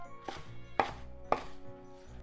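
A knife chopping through spinach on a cutting board, three distinct crisp cuts spaced about half a second apart, close and clear with no talking.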